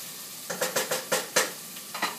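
Onions sizzling in a pan, heard as about seven short rhythmic stirring scrapes over a soft frying hiss, close and fairly quiet, with no voices.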